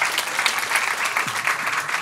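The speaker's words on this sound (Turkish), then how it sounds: "Chill Out'u da alkışlayalım." An audience claps at a quiz night, giving dense, steady applause from a room of people that stays loud for two seconds.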